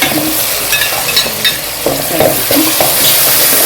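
Ginger garlic paste dropped into a hot pan for a pomfret fish fry sizzles loudly and close, with bursts of spattering and a few stirring clatters, no voices heard.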